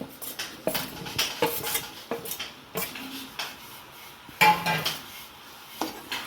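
A chicken stew with carrots and potatoes is stirred in a pot, giving repeated scraping and clinking strokes of a utensil against the pot at an uneven rhythm. The sounds are close, with quiet gaps between them.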